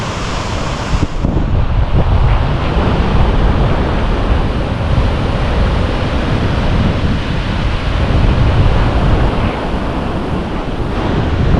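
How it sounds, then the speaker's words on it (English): Strong wind roars and buffets continuously against the microphone, with a broad surf-like rush underneath and no voices. "It's a bit windy"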